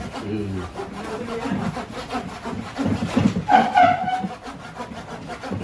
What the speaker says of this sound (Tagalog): Since meron po tayong lagari dito, lagariin po natin.